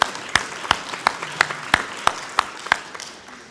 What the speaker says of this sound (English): Can I have some applause for my judges who turned out here today?